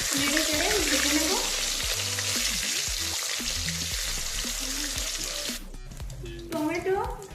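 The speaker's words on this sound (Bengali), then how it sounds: "ভালো করে নেড়ে চেড়ে ভেজে নেব।" Tomatoes and green chilies sizzle loudly in oil while being stirred and turned in the pan, with repeated scraping knocks over a continuous crackle that briefly drops away near the end before resuming.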